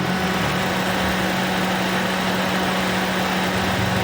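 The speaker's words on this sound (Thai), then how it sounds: "เดี๋ยวเรามาฟังเสียงเครื่องกันดู" A stock 2017 Toyota Altis 1.6G with a 1,600 cc petrol engine running at idle, a steady, even hum with a low constant tone, close and unchanging throughout.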